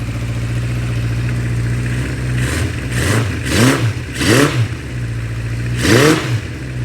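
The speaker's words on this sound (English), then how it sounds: "it sounds like a low mileage motorcycle" A 1976 Honda CB550 chopper engine, first started after decades unused, idles with a steady rumble, then blips the throttle in several sharp revs before settling back to idle.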